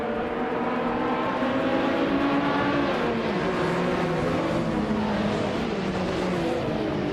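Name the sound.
race cars starting a race in a racing video game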